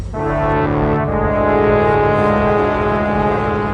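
A long, loud horn blast sounds as a trumpet effect in a Portuguese Bible reading, a single sustained brassy tone with a slight swell that rings out alone without speech.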